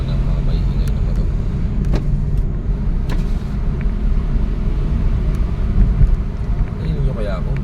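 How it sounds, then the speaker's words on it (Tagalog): Loud, steady rumble of noisy motorcycles passing close by, heard through an open train window, with wind buffeting throughout; a voice speaks briefly. "Ano naman ang mga maingay na motor."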